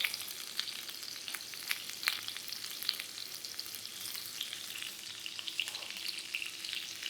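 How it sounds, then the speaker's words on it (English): Onion sautéing in animal fat in a pan gives a steady, fairly quiet sizzle with scattered crackles and pops and no voices. "the vegetable we are going to want to throw on first is the onion, because the onion takes the longest to properly saute"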